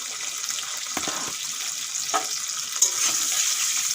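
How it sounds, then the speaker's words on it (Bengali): Potato pieces with turmeric frying in oil give a steady, close hiss and sizzle, broken by a few soft stirring scrapes and one small clink, with nobody speaking. "শুধু হলুদ দিয়ে খুব সুন্দর করে আলুগুলো ভেজে নেব"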